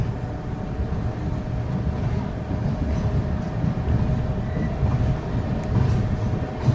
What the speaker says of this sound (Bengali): এক মিনিট দাঁড়ানোর পর উলুবেরিয়া থেকেও ট্রেন ছেড়ে দিয়েছে